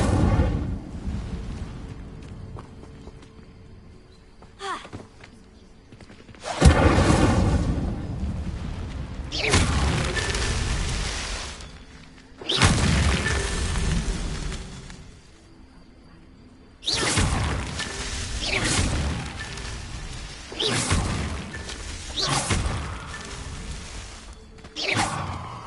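Incendio fire spells in Hogwarts Legacy burst out as several loud whooshing, roaring blasts, each swelling and fading over a few seconds, separated by quieter stretches of low rumble and mechanical clatter, with no voices.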